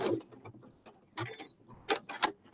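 A sewing machine stitches a fabric piece for a woodland-themed journal, running in short mechanical bursts with brief pauses between them, fairly quiet and close.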